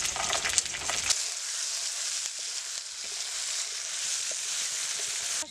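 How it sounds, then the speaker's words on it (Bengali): Chopped carrot, peas, cabbage and beans fry in a hot pan for egg chowmein, giving a loud, steady, close sizzle with a busier stirring rush at the start. "সবজিগুলো লাল লাল করে ভাজা হয়ে গেছে।"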